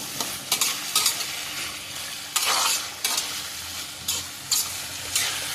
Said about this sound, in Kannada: ಚೆನ್ನಾಗಿ ಫ್ರೈ ಆದಷ್ಟು ಗವರು ಚೆನ್ನಾಗಿರುತ್ತೆ